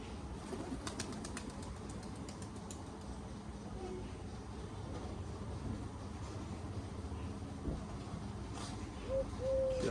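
Pigeons coo softly in the background amid general outdoor ambience, with a few wing flutters and faint distant voices.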